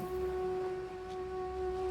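A single sustained horn blast in the video game Myst IV: Revelation, a steady droning tone held for about two seconds without breaks.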